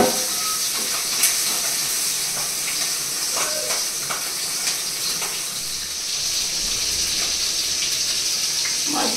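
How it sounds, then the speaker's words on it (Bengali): Small fish fry in hot oil in a pan, giving a constant, loud, close hiss and sizzle with scattered crackles and pops throughout. "এবার মাছগুলোকে ভেজে নেবো।"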